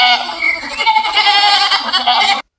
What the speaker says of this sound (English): G, g, goat.